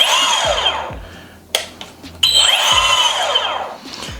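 A StrikeMaster Maven electric ice auger motor whines up to speed and winds down, twice, loud and close, with a few clicks in between.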